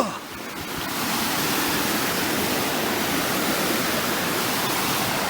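The Talybont waterfall roars in a dense, continuous rush of falling water that is loud and close, holding steady throughout after a brief softer opening.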